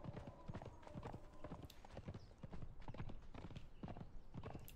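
Horse hooves clop rapidly and continuously while riding horses in the video game Conan Exiles, a close, busy galloping rhythm with scattered overlapping hoofbeats, steady in loudness across the whole stretch.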